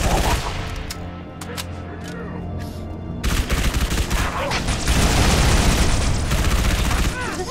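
In Halo 3 ODST on Kizingo Boulevard, a frag grenade blows up amid gunfire: a sparse stretch of shots, then a loud eruption leading into dense, sustained automatic fire with rumbling impacts and shouted voices.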